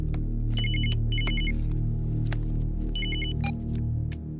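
A phone ringtone rings in short electronic trilling bursts, paired in a repeating pattern, loud and near over a steady low hum.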